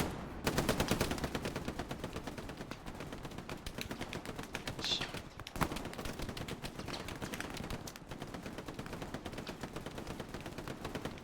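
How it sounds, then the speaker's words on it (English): Sustained gunfire in the WWII video game Hell Let Loose, a long steady stream of rapid shots at moderate distance, continuous rattling bursts with a brief pause midway and a faint voice now and then. "I wonder if he can see anything or if he's just throwing lead down the road"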